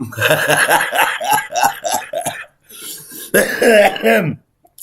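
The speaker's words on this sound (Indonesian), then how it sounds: "Sampai batuk-batuk gue." A rapid string of coughs and throaty hacks, almost laugh-like, followed by a brief pause and another harsh burst of coughing.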